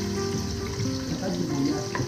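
Garlic and onion sauté in hot oil for homemade arroz caldo, a dense, close, continuous sizzle with light stirring and no talking.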